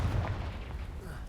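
A Confringo fire spell blast in a video game erupts as a deep, rumbling boom that rolls on steadily through the whole short moment, heavy in the low end.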